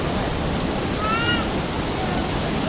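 Rushing water at Kempty Falls in Mussoorie roars as a dense, continuous torrent close by, loud and unbroken, with a faint whistle-like tone drifting through briefly.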